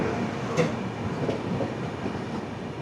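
The 13152 Kolkata Express rolls through Sitarampur Junction after rain, a steady rumbling rail noise heard from on board with a few faint clanks and no talk.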